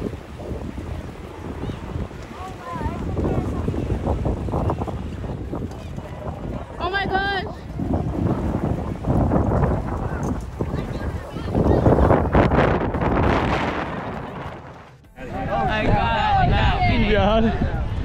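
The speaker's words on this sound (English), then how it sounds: "It just got so windy." Strong gusting wind roars across the microphone on a beach on Marco Island as a storm moves in, a steady heavy rush that swells and dips, with people talking and exclaiming throughout.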